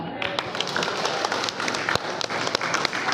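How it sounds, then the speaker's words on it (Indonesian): At a Christmas choir competition, applause for the contestants rises as scattered, fairly close claps over a murmuring crowd, and voices carry through it. "inilah dia peserta dari daerah pelayanan 4 dan berikan tepuk tangan"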